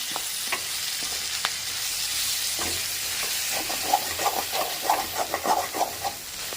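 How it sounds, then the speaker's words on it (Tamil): Capsicum stir-fry is stirred in a hot pan, with a continuous close sizzle and hiss followed by a quick run of scraping, clinking stirs near the end. "இப்போ அதை நம்ம வந்து கலர போகிறோம் இப்படி கலரி விட்டுறோம்"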